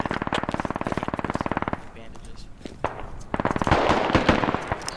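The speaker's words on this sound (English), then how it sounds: "Artillery." Rapid bursts of gunfire followed by heavy booming impacts from artillery in the video game Squad, a loud battlefield din with a voice briefly speaking over it.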